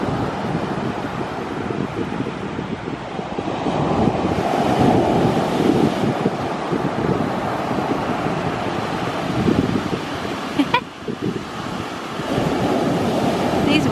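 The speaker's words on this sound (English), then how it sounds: "These waves are insane though." Atlantic Ocean waves surging and crashing onto the shore, a loud continuous roar of surf with heavy wind buffeting the microphone and one sharp knock near the end.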